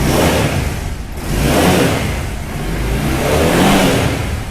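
A Honda Shadow 750 motorcycle engine runs loud and close, its rumble rising and falling in several revving swells with no pauses.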